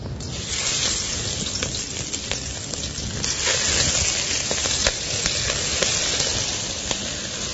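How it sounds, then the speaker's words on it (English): Prawns sautéing in vegetable oil in a pan for a prawn curry, a steady close sizzle and hiss throughout with a few sharp crackles and spits, no talk. "And now prawns go in."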